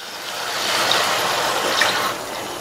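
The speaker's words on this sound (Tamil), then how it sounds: "1/4 கப் அளவுக்கு நான் தண்ணி சேர்த்திருக்கேன்." About a quarter cup of water pours steadily into a pan of cooking gravy for a couple of seconds, a soft continuous splashing trickle, fairly close.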